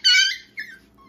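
A dog whimpers in two short high whines, the first longer and the second brief, close and fairly quiet with no other sound around them.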